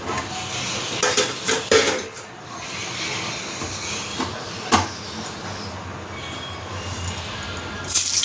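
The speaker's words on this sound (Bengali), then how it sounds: "চলো এবার এই সিদ্ধ করে রাখা আলুগুলোকে চটপট করে ভেজে নিই" Boiled potatoes sizzling in hot oil in a home kitchen, a steady hiss broken by sharp clinks of a utensil against the pan.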